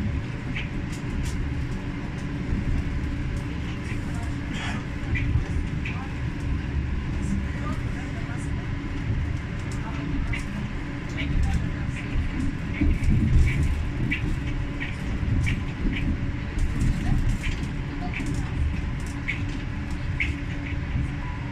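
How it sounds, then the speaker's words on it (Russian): An R2R electric multiple-unit train on Russian Railways passes, heading to Isakovo, with a steady rolling rumble and repeated rhythmic clicks of wheels over rail joints, moderately close, while a voice speaks over it. "вот электропоезд R2R на Исаково"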